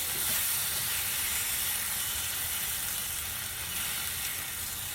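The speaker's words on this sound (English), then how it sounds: "I'm just stir frying it, giving it a nice coating" Steady sizzling of beef stir frying in a hot pan, a continuous bright hiss with no talking.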